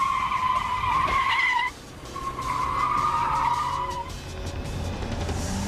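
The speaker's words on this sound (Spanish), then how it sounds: "Voy a acercarme a ese coche y le voy a golpear en el parachoques trasero para que empiece a dar vueltas" A car skids and spins after its rear bumper is struck during a defensive-driving exercise. Loud, close tire squeal runs in two long screeches with a short gap between them, over steady engine noise.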